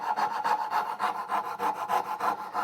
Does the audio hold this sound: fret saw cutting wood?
yes